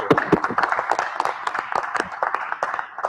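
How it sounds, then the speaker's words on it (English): Audience applause for guests at the close of a talk on Green New Economics and MMT in Pittsburgh, a steady patter of many hands clapping together across the whole stretch, fairly close and without speech. "Let's give them another round of applause"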